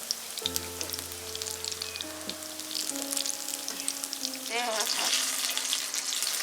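Chicken pakoras fry in hot oil with a steady, close sizzle, a few clinks of utensils and a brief bubbling burst toward the end; no talking.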